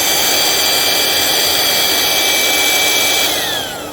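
An electric air pump fitted with its smallest nozzle inflates a pillow for an inflatable car mattress, a loud, steady high whine that holds constant, then drops in pitch and eases off at the end, with no talk.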